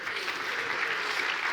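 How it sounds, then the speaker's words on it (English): A live audience claps steadily in a conference hall for a participant nicknamed Gangster Granny, a dense, even wash of many hands applauding throughout with no pauses. "Round of applause for Gangster Granny"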